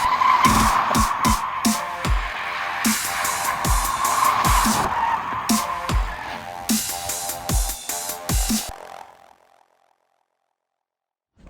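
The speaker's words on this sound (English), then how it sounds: "We're going to spin the car around." A Tesla spins donuts, its tires skidding and squealing in a loud, continuous screech broken by sharp rhythmic bursts, then cutting off abruptly into silence near the end.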